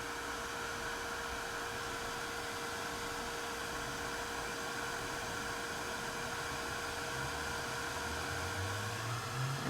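A heat gun blows steadily while melting clear embossing powder, a faint continuous whooshing hum with a faint tonal whine, unbroken for the whole stretch.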